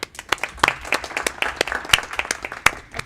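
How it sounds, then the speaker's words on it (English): A modest round of applause at a school board of education meeting: scattered, uneven claps from a small group, individual hands distinct and fairly close. "We'll give her one more round of applause."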